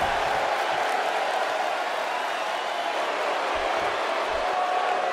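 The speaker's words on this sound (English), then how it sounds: "Crowd here in Austin, Texas, really into this one" Wrestling crowd in an Austin, Texas arena roaring steadily, a dense, continuous wash of cheering and shouting that holds at a loud, even level throughout.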